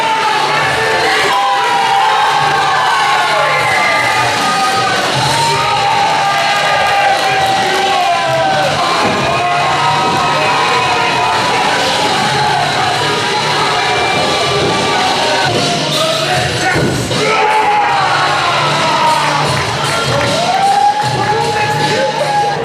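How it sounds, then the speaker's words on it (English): A wrestling arena crowd roars and cheers continuously at loud volume, with shouts and whoops rising over a dense wall of crowd noise as a new wrestler is revealed. "The crowd erupted when they realized BOW is the third man to join the plague against the NWOrds."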